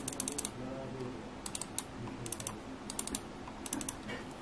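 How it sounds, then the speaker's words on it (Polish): Clicks from a Redragon Cobra M711W wireless computer mouse come in quick bursts of sharp, faint, slightly hollow taps, repeated in several clusters close to the microphone. "dźwięk klikania jest taki trochę pusty"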